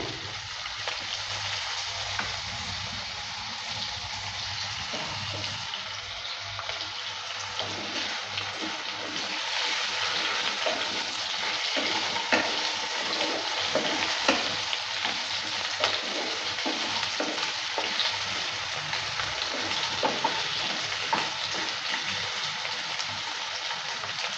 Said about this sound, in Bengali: ভালো করে নেড়ে চেড়ে নিচ্ছে আলুটাকে হালকা একটু ভেজে নেব